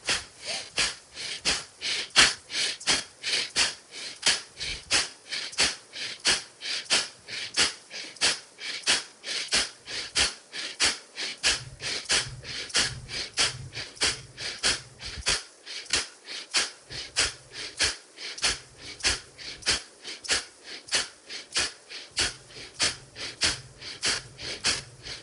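Repeated forceful yoga breaths driven by the diaphragm, a fast steady train of sharp exhalations pulsing about twice per second, close and loud, with no talking over them.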